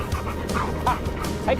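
A sled dog on a frozen, snowy river gives short whimpers and yips close by, mixed with a person's voice speaking over the dog.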